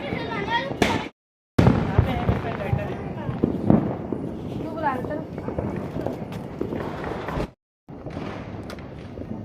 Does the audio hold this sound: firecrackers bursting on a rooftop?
yes